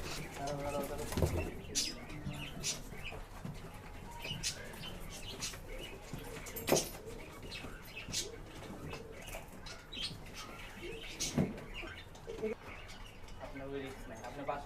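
A busy flock of pigeons being loaded into a carton coo and flutter, with occasional sharp wingbeat bursts and background voices throughout.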